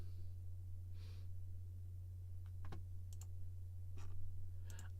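Faint, scattered computer mouse clicks sound in small irregular clusters over a steady low electrical hum in a quiet room.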